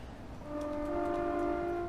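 A Class 465 Networker electric multiple unit sounds its horn in Train Simulator 2021 on the Chatham Main Line and Medway Valley route. It gives one sustained, steady two-tone blast that swells in after a brief pause and holds loud to the end.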